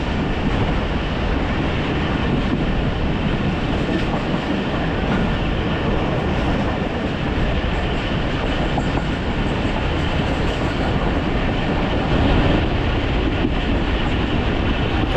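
The Tezgam Express passenger train running through Gujranwala, heard from on board as a steady, loud rumble of wheels and carriages with faint rhythmic clatter, continuous and unbroken with no talk.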